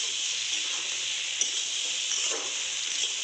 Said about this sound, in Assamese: চাওক এনেকৈ মই অলপ সময় ভাজি আছোঁ